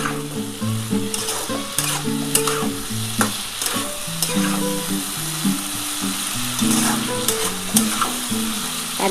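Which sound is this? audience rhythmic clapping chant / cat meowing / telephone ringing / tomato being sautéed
tomato being sautéed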